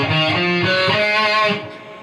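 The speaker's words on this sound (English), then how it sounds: "the other scale he uses in this particular solo is A mixolydian" Electric guitar running up an A mixolydian scale in a quick succession of clear single notes, then fading off at the end, with no voice over it.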